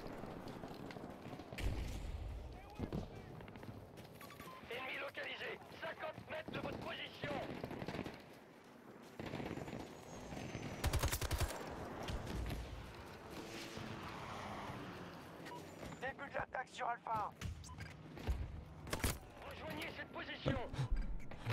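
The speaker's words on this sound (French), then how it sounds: "Ah, c'est des feux nourris, hein." Heavy gunfire in Battlefield 2042 game combat, dense bursts of automatic weapons and thudding explosions rolling on throughout, loud and busy, with someone talking over parts of it.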